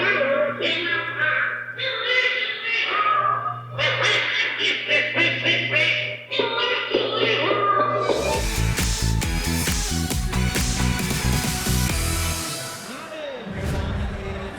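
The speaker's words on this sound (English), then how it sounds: "you can hear Donald Duck sing when it's operating" A restored 1950s Disney Donald Duck coin-operated kiddie ride sings while operating, its quacking duck voice over a bright music track, loud and close, with crowd chatter in the background at a collector car auction.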